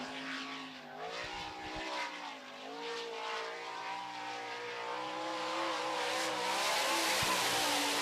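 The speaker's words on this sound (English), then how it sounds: "Next car up on the racetrack to qualify will be Tim Schaefer's number 83." Tim Schaefer's number 83 sprint car qualifying on the racetrack in time trials, its engine note rising and swelling as it passes nearby and grows louder toward the end.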